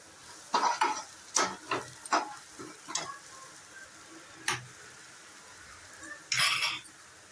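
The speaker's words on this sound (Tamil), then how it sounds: "1 ஸ்பூன் இஞ்சி பூண்டு பேஸ்ட் போட்டு நல்லா பச்சை ஸ்மெல் போகிற அளவுக்கு வதக்கிக்குங்க" Ginger garlic paste and green chilies sauté in a pan with a soft sizzle, punctuated by several sharp clinks and scrapes of a spoon stirring at irregular intervals.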